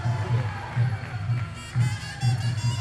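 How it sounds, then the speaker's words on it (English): Crowd at Muay Thai finals of the 2018 FISU World University Championship in Pattaya cheering and chanting in rhythmic surges, several loud swells over a few seconds, moderately close and without talk. "you can hear the cheers from the crowd encouraging the athletes to keep pushing on"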